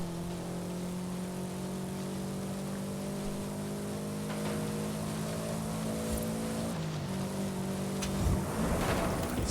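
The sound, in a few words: Porsche Cayenne driving in a racing video game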